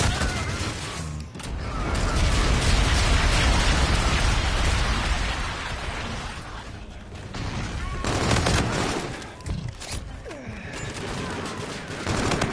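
A bombardment with gunfire rages in a PS4 shooter game, a dense, loud roar of rapid shots and blasts that thins briefly and swells again, with voices talking at times.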